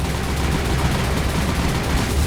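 Ship explosions and gunfire in the naval combat game War on the Sea: a dense, continuous roar of blasts and rumbling booms filling the whole stretch, loud and steady with no talk over it.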